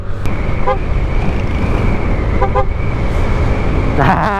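A vehicle horn toots briefly over constant road and engine noise, with short beeps near the start, middle, and end.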